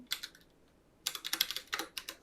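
Typing on a computer keyboard while writing CSS order properties, in two quick bursts of light key clicks separated by a short pause, close and fairly quiet with no talking.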